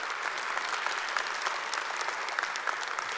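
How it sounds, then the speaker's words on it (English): Church congregation applauding after a graduation announcement, steady dense clapping from many hands throughout, fairly even and continuous with no speech over it. "Applause, please."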